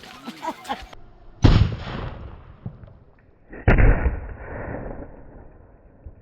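Triple Five bomb firecrackers set off for Diwali, giving two loud, sharp blasts a couple of seconds apart, each one rumbling and echoing off as it fades, with faint voices heard before the first bang.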